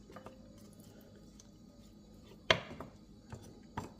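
A knife dicing carrots on a board gives a few sparse, faint chopping taps, one sharper cut standing out, close by with no talk.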